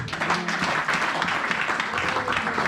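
A church congregation clapping and acclaiming God during a service, a dense steady wash of applause from many hands with voices mixed in throughout.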